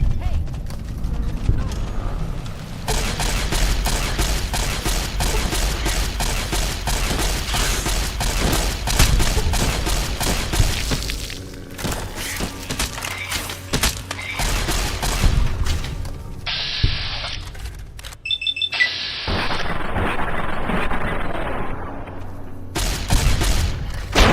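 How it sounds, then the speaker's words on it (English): Laser rifle fire in Fallout: New Vegas, with repeated rapid discharges and impacts over dense combat noise, a pause near the middle, then more bursts and high electronic zaps toward the end. "Try the laser rifle."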